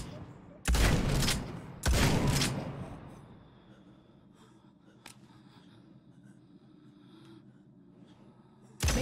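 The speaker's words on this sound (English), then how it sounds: "This lever-action shotgun packs a punch." A lever-action shotgun in a zombie survival VR game fires two heavy, close blasts about a second apart, each followed by a reverberant tail, then quiet mechanical clicks and handling noises with another shot starting at the end.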